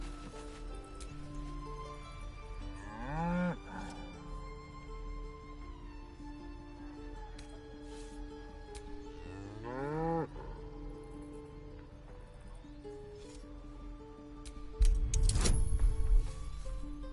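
A cow in Baldur's Gate 3 moos twice with drawn-out rising calls, loud and close, set over a steady game music drone, followed by a sharp loud burst near the end.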